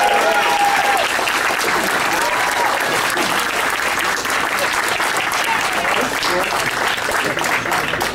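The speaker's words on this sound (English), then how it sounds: "let's give Scott a big round of applause" An audience at a Chiller Theatre Expo applauding the actor Scott Wilson: dense, steady clapping from a crowd, fairly loud and sustained across the whole stretch.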